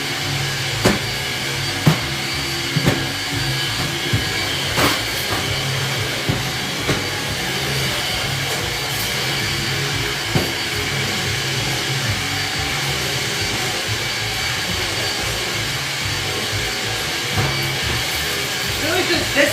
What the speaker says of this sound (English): I keep this vacuum here, and I just do this like probably once an hour.